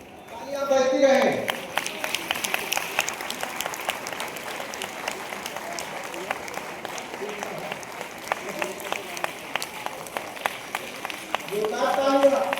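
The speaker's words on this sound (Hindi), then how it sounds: "तालियां बजती रहे।" Sustained crowd applause at a school celebration for disabled people, even dense clapping throughout with a voice heard briefly at the start and near the end.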